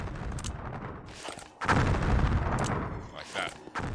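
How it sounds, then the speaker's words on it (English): A sudden loud explosion bursts out in the Star Wars game Jedi Knight at a house overrun by Tusken Raiders, rumbling on for a couple of seconds amid other combat noise, followed by a few smaller bangs. "I'm gonna blow up this without hurting myself."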